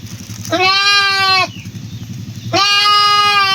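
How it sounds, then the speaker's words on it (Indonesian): A young goat kid in a remote hillside village bleating twice, two loud, close, drawn-out wavering cries separated by a short pause, with a low engine-like rumble running beneath. "Ih, ada anak kambing nih."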